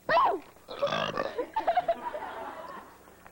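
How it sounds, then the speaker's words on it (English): A loud, abrupt burp erupts at the start on a comedy TV show, followed by a few seconds of chuckling and laughter from people nearby. "can you teach me how exactly do you burp like that?"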